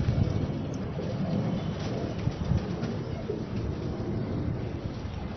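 Ali wale pigeons, a male and female pair, cooing in a loft in Lahore, soft low coos under a steady hum of background noise.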